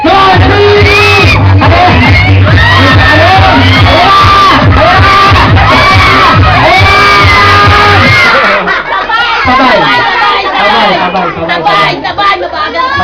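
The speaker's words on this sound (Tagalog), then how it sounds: "Kayo tatlo ha, sabay-sabay sumigaw pagkatapos niya." A group of people shouts together on cue, a loud burst of overlapping yells and whoops amid crowd chatter, dropping to scattered voices and laughter after about eight seconds.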